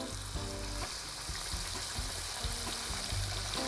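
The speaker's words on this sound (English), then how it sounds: "Why not add more fat to this already extremely fatty meat and deep fry it?" Heavily marbled wagyu beef deep frying in fat, a dense, continuous crackling sizzle with bubbling pops throughout, close and steady with no talking.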